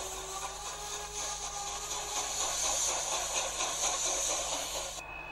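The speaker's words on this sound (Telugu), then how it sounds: "కూ చుక్ చుక్ చుక్ చుక్ అని వచ్చింది కదా, అది ట్రైన్ అన్నమాట" Train steam hiss with a steady rushing, chugging rail noise, continuous and fairly loud throughout, with no voices.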